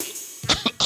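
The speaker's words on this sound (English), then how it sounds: "coughing" Two or three short, sharp coughs close by, following a brief quiet lead-in, in a comic holiday variety skit about a dirty, disease-spreading Saint Nick and sick children.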